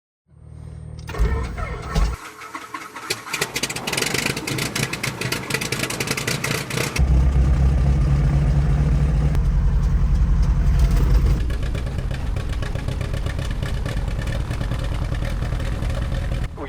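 Twin engines of a restored 61-year-old turbocharged airplane starting up and running, sputtering at first, then catching into a loud, steady rumbling idle with a rhythmic throb and a deeper, heavier surge midway.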